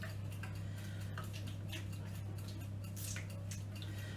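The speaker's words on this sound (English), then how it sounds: "Just going to let that last bit drain off." Sauce drains through a strainer in quick, faint ticking drips, irregular and close, over a steady low electrical hum, with no talking.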